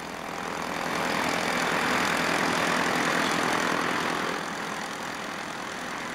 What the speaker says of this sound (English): Bruce Edwards, the crew chief, signals Dick to start the front engine